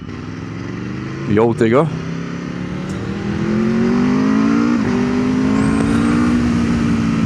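An Aprilia RSV4 Factory superbike engine, with a sharp burst of high revs early, then a steady loud rising drone as it pulls away, with brief speech over it.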